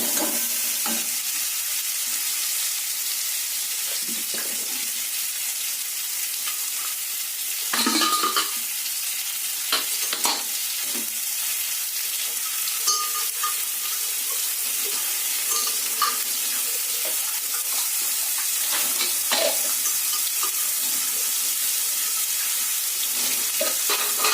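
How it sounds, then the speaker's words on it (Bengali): Potato pieces frying in hot oil in a kadai until reddish, ahead of a mutton curry, make a continuous bright crackling sizzle with intermittent scraping stir clicks close by throughout. "আলুগুলোকে লাল লাল করে ভেজে নিচ্ছি"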